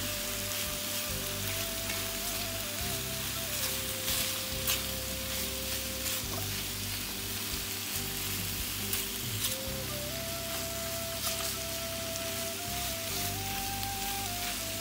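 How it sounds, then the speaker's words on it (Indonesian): Padang satay spice paste sautéed in a pan, a continuous close sizzle and frying crackle with occasional stirring scrapes, steady throughout with a faint tonal hum in the background and no talk. "Kita aduk, kita tumis sebentar. Biar meresap bumbunya."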